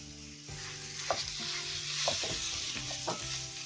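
Onion and minced meat frying in oil for a lasagna, a soft continuous sizzle under a low background hum, with a few brief scrapes of stirring.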